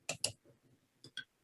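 Computer mouse right-clicking at a desk: two quick, sharp clicks close together near the start, then two more crisp clicks a moment later, close and fairly quiet with no talking.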